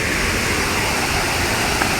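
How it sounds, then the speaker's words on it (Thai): A steady, dense rush of falling water from a waterfall in a cafe garden, continuous and fairly close, with no voices over it. "ไปที่น้ำตกนี่น้ำตกนี้"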